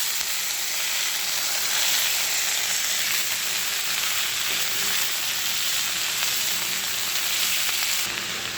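Washed, drained drumstick leaves (moringa) sizzle and fry steadily in a hot pan on a home stove, a loud continuous crackling hiss with no talk.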